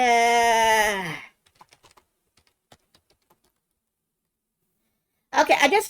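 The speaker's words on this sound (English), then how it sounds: "I just started typing why can bishops move diagonally" Scattered, fairly quiet taps on a computer keyboard, a brief burst of keystrokes in a quiet room, with talking just before and right after.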